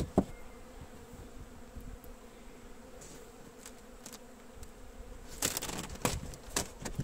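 Honey bees swarm around an open hive of young colonies, a dense, continuous buzz close by, with scattered sharper clicks and knocks from handling frames toward the end.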